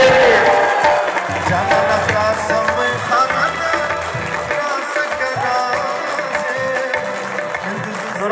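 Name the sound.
audience applause for the introduced coordinator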